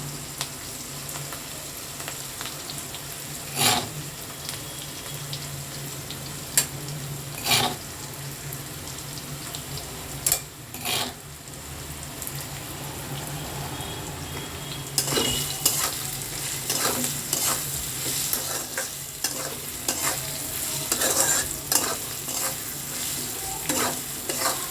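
Semolina for upma is added gradually and stirred in a pan, with repeated scraping strokes and a soft sizzle, growing busier toward the end.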